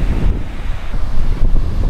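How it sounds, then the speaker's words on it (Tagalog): Sea waves wash onto a pebble and stone beach at a resort in San Joaquin, Iloilo, a steady broad surf roar with wind buffeting the microphone and no voices. "Ito yung dagat."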